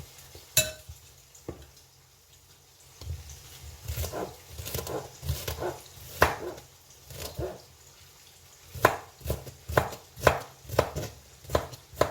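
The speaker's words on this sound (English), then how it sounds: "still chopping our ingredients. I have to chop everything." Chicken pie ingredients are chopped on a cutting board with a knife in irregular bursts of close, sharp thuds, sparse at first, then quickening into rapid runs of chops near the end, with faint kitchen clatter.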